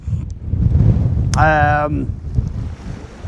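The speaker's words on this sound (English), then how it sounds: "It's a bit windy" Wind gusting across a harbour breakwater at Holyhead during evening sea fishing, a steady broadband roar throughout, with a brief tonal whistle or voice in the middle and a single spoken word.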